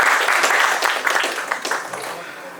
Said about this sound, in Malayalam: ഒരു ഗംഭീര കൈയടി ഫോർ നമ്മുടെ ജനപ്രിയ നായകൻ ദിലീപേട്ട